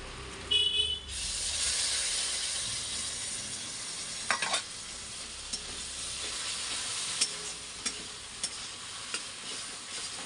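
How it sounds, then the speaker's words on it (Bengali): Mustard-poppy seed paste goes into coconut already frying in a pan, and a loud burst of sizzling follows, then settles into a steady hiss with occasional clicks and scrapes of stirring. "নারকেলটা আমার ভাজা ভাজা হয়ে গেছে আর এখন আমি একটু সর্ষে পোস্তর পেস্টটা দিয়ে দিচ্ছি"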